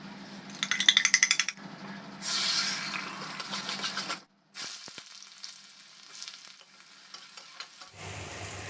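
Fried rice with two eggs, carrot, capsicum and onion cooking in a home kitchen: sizzling in a pan with bursts of metallic stirring and scraping, rising and falling in intensity, close up with no talk.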